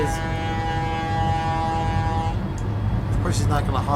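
A sustained train horn blast from the railway simulator Trainz A New Era holds steady for a couple of seconds and then cuts off, leaving rumbling background noise, with a person talking near the end.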